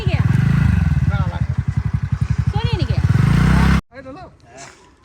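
A motorcycle arrives at a house where a family waits for visiting relatives, its engine thrumming in a steady close pulse for nearly four seconds before cutting off abruptly. Voices talk over it, and quieter chatter follows.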